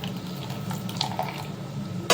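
Hot water pours over poppy seeds, yellow mustard seeds and green chillies soaking in a bowl, a short steady splashing trickle close up, ending with a brief louder clink.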